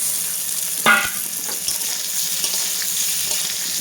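Fried bitter gourd and potato are tipped into a pan of browned onions and oil, bringing a brief clatter and a burst of sizzle. A soft, steady frying hiss continues close by.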